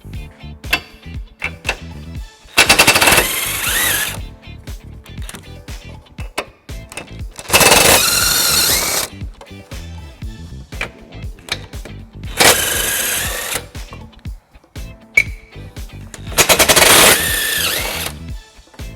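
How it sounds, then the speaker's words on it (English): Power tool spinning off bumper beam nuts with an 18mm socket on a 2018 BMW 530i during a trailer hitch install: several loud, close bursts of rattling impact, each lasting about a second, separated by clicks and handling noise. "It's held on by 2 nuts on each side, and we're going to remove those using an 18mm socket."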